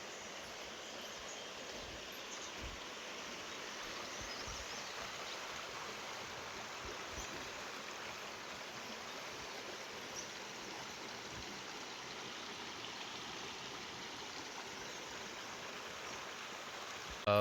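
A river stream flows steadily beside a riverside homestay in Pauri Garhwal, Uttarakhand, a constant broadband rushing of water, moderately near and unbroken throughout.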